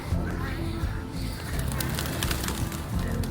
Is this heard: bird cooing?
yes